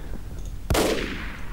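A single heavy cannon blast in the video game Roblox Apocalypse Rising booms sharply with a rumbling tail, amid game background noise.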